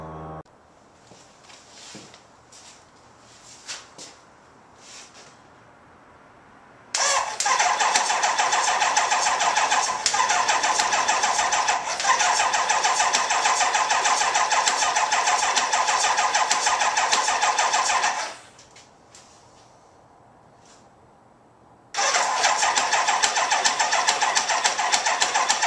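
A Kawasaki ZX-9R motorcycle's starter motor cranks the engine in two long, steady, loud whirring bursts, the first lasting about eleven seconds, with quiet gaps and faint clicks between them.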